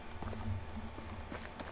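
Donkey hooves clip-clopping in the medieval video game Medieval Dynasty, a few soft, irregular hoof knocks over a steady low background hum.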